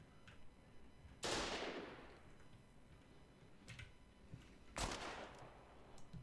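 Two sharp gunshots crack in the war game Foxhole, each with a long decaying tail, a fainter shot between them and quiet ambience around them.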